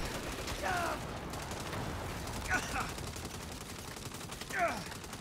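Gunfire in the co-op campaign of the video game Saints Row comes as rapid, rattling volleys at moderate volume, with some mechanical clatter and chirps mixed in.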